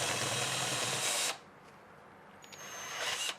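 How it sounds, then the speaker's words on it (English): A half-inch Forstner bit bores into the wood of a guitar body under construction, giving one loud, close, whirring grind for about a second before it cuts off, followed by faint handling noise. "So I'm going to take a 1/2 inch Forstner bit, drill into there"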